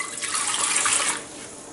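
Water poured from a vessel into an idli maker, a brief steady splashing gush that tapers off near the end, heard alone.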